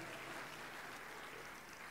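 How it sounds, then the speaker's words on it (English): A church congregation claps their hands together during a service, a dense, even applause of many hands sustained at a steady level. "That hand clap is for Jesus"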